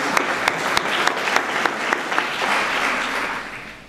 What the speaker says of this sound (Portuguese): E podem bater palmas agora.